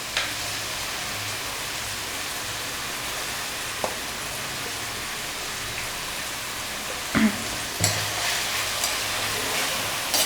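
Mutton masala braising in a pan with onion and spice paste, a steady close sizzle and hiss that runs throughout, broken by a few faint clinks and scrapes.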